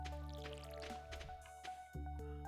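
Crops are watered in a farming video game, giving soft drips and squishy splashes over a sustained tonal game soundtrack, with a brief dip in the music near the end.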